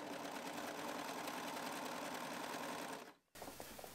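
A sewing machine stitching jersey fabric runs at a steady, even buzzing hum for about three seconds, then stops abruptly. Brief quieter handling sounds follow.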